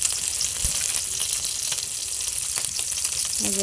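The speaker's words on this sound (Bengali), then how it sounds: "ওদের বলে চিরাই মাছ এটা পুঁটি মাছের চিরাই মাছ এটা আগে ভাজি করতেছে" Small chirai puti fish frying in hot oil in a home kitchen on a rainy day, a constant bright sizzle with occasional pops and a brief stir near the start and end.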